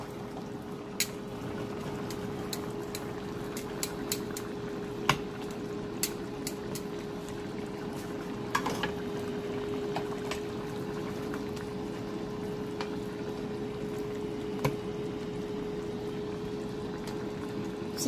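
Red snapper simmering submerged in a coconut broth in a pot, a low steady bubbling hum with occasional faint clicks and pops, no talking.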